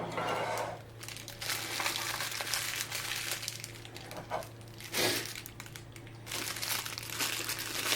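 Crinkly plastic bag wrapping around a Casio GM-2100MG-1AJR watch is pulled and crumpled nearby, a continuous rustle with sharper crackling bursts throughout.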